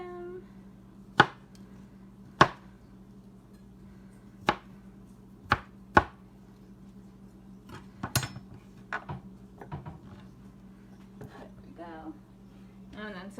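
A knife chopping strawberries and other fruit on a board, sharp isolated cuts spaced a second or two apart, then a quicker cluster of lighter chops, close and clear over a low steady hum.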